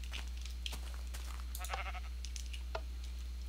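Sheep bleat faintly in a Minecraft farm, a few short soft calls over a steady low hum.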